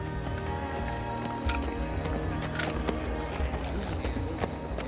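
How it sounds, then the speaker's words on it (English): Several horses gallop through the night toward an enemy encampment, a steady rapid clip-clop of hooves kept up the whole time under a dense, busy layer of background sound. "Abram and his warriors rode through the night, closing in on the Elamite camp"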